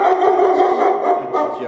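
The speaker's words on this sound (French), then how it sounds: "Voilà, alors ce sont les chiens d'éducation." Several dogs in a training kennel's boxes howl and bark together, loud and close, a sustained wavering chorus with brief yips.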